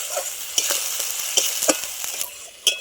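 Spiced potol chingri, pointed gourd with prawns seasoned with salt and turmeric, stirred and fried in a pan over a wood fire, giving a steady sizzle broken by several sharp scrapes of the spoon against the pan.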